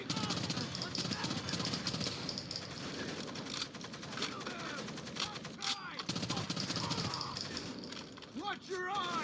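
Rainbow Six Vegas gameplay: bursts of rifle and automatic gunfire in terrorist hunt mode, mixed with shouting voices, clattering effects and in-game chatter throughout.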